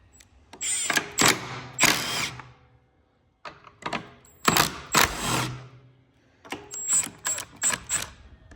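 Plastic shroud being pulled off a Predator-engine-swapped commercial Sensation lawn mower, with bursts of rattling, scraping and clicking clatter in three clustered bouts separated by brief pauses, close and fairly loud.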